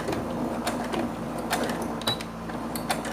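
A sewing machine backstitches at the start of a seam on a tube bag, running slowly with soft, close, regular stitching taps over a steady motor hum.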